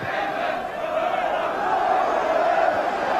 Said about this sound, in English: Huge cheers from the crowd because they've seen Stephen Pears re-emerging from the tunnel